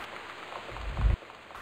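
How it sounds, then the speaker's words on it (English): Steady rain falls in the Gone Home video game, a soft continuous hiss with a brief low rumble near the end, heard alone without speech. "The sound of that rain was just killing me"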